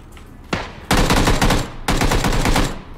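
Close, loud gunfire from a shooter video game: a single sharp report, then two rapid automatic bursts of about a second each, separated by a brief pause.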